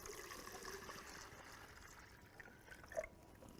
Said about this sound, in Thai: ก่อนอื่นเราเทน้ำเขียวใส่ไปในเหยือกนะคะ